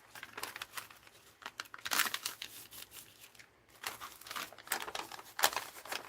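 Crinkly, wrinkled text pages being handled for a handmade art journal: close, bursty crinkling and rustling of stiff paper in irregular bunches, with brief quieter gaps between the handling.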